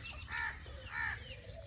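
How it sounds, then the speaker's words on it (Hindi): Two loud caws from crows at a poultry farm, close by and spaced about half a second apart, over a low rumble of background noise. "ये देखें, यहाँ पर कौवे भी आ चुके हैं"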